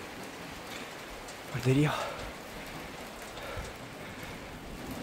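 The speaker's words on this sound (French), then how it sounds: "Je sais pas par rapport au cœur de l'orage où on est." Steady heavy rain pours down during a nearby thunderstorm, a dense hiss throughout, with a brief burst of excited speech over it.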